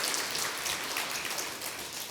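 A congregation claps steadily to welcome a church member during a Sunday morning worship service, a dense, even patter of many hands filling the room with no break.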